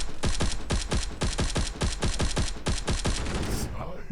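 Machine gun fire in the mobile shooter Guns of Boom, a rapid burst of about a dozen evenly spaced, punchy shots close up that stops abruptly near the end, with no one talking.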